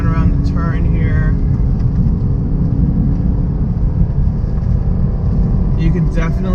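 A VW Golf R with four-wheel drive rounds a turn, its engine a loud, steady low rumble heard from inside the cabin, with a voice talking briefly over it at the start and end.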